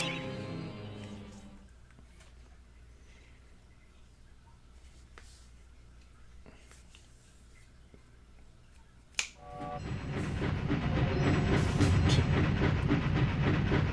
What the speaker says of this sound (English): It is a goofy looking train.